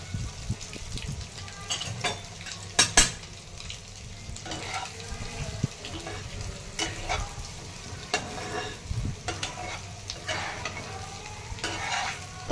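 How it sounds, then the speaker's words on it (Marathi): Boiled eggs sautéing with salt and turmeric in a pan for an egg curry, steady frying sizzle with spatula scrapes and stirring clatter, one sharp knock, close and alone without talk. "करून घेतलेले हे त्यामध्ये परतून घ्यायचं आहे थोडंसं"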